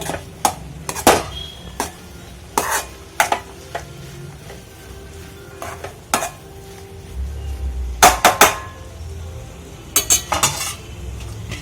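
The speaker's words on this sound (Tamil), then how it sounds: "இப்போ இந்த தேங்காயோட பச்சை வாசனை போகிற வரைக்கும் நல்லா கிண்டி விட்டுக்கலாம்." Snake gourd and grated coconut stir-fry being stirred in a pan, with clinking and scraping of a metal spoon against the pan in irregular bursts, close and moderately loud, no talking.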